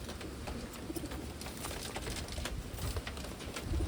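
Soft cooing calls from Wantai pigeons sit under a constant hiss of background noise, with faint scattered clicks and rustles.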